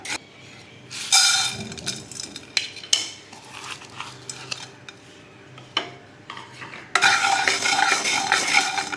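Roasted cumin seeds scraped and stirred in a pan with metal utensils, bursts of clattering and scraping between quieter stretches, ending in a sustained louder rattle as the seeds are tipped onto a plate.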